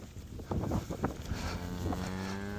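Cows in a field give a few low, drawn-out moos, one after another, at moderate distance over faint outdoor background noise.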